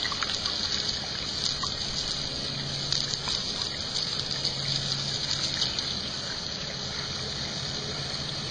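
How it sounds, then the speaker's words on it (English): Water bubbling steadily through a gold prospecting fluid bed, a continuous close hiss and trickle with no talking. "All the light material is bubbling out of the fluid bed."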